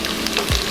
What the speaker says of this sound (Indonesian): ini aku menggoreng menggunakan multifunction pan dari Idealife